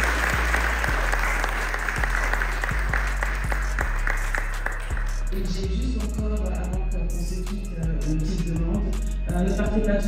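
A crowd at a Miss Africa Belgium pageant anniversary event applauds steadily, the clapping dense at first and then thinning to scattered claps, with faint voices underneath.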